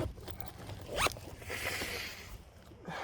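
A zipper on the flat panel pocket of a Blackburn Outpost bike bag is pulled in one quick close stroke, followed by a longer softer rasp and faint handling sounds.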